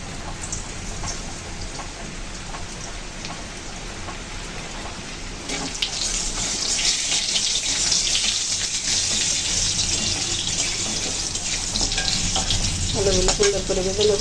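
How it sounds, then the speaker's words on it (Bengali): Potatoes fry in hot oil in a pan over toasted whole spices, a steady dense sizzle that swells louder partway through as they are stirred, continuing with scraping and crackle, no talking. "আলুগুলো সুন্দর করে ভেজে নেব।"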